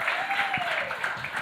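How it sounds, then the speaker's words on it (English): A room of guests at a New York Ladies GAA anniversary event claps after a film screening, a soft, steady spread of applause with a whistle-like tone and a few voices underneath. "Yes, big round of applause."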